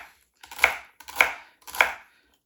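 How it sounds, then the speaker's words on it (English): A knife chops through celery stalks and leaves on a cutting board in three crisp, evenly spaced strokes, close and clear. "we're gonna cut up our celery and our celery leaves"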